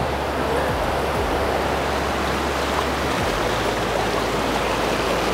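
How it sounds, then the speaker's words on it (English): Steady loud rushing of a river in Nepal near the spot where a crossing is needed, a constant broadband roar of flowing water close by, with no voices. "I have to cross the river."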